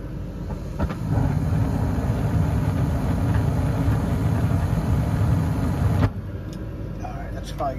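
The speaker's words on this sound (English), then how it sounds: "The gas valve should kick on." A home furnace's gas valve opens and the burner lights, bringing a broad, steady roar that starts abruptly, runs for about five seconds, then cuts off suddenly, as if the flame fails and shuts down.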